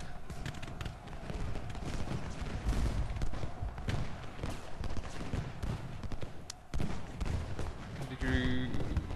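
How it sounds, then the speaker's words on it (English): Booms and gunfire from a battle in the video game Ultimate General: Gettysburg roll on in a dense, continuous din, with scattered louder blasts and a voice talking over the fighting. "We got more bloody artillery in the back everywhere."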